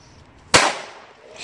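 A single firecracker pops sharply at close range, a bright burst that fades into a hissing tail, with quieter hiss returning shortly after.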